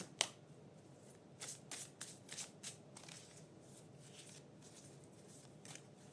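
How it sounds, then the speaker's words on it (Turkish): Tarot cards being shuffled by hand, a series of quick, crisp riffling bursts close by, fairly quiet and spaced across the moment, with no one talking. "Üç tane kart alacağım."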